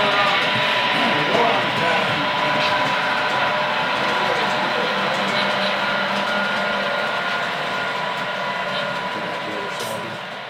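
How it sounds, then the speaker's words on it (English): An HO scale model train, the Plainsman, rolls past a local freight waiting in a siding, giving a continuous close rumble and rattle of wheels that fades slightly toward the end. "We've got train number 18, the Plainsman, passing the local 406 that's in the siding."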